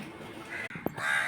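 A crow perched up high in a home garden with roses gives a single short caw partway through, heard against a quiet background hum with no talking.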